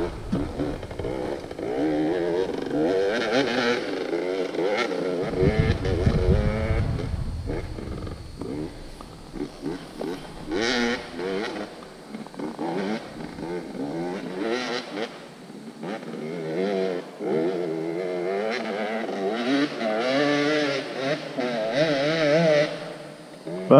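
A dirt bike revs on a steep hill climb course, its engine wailing and bogging in loud surges, rising and falling in pitch over about twenty seconds outdoors.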